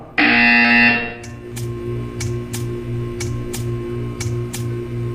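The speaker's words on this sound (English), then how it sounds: "You will hear a buzzer." A loud electronic buzzer from the video game Portal 2 blares for about a second, then a series of evenly spaced sharp ticks follows over a steady low hum.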